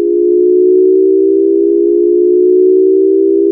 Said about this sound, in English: Shepard tones are sounds that keep rising forever.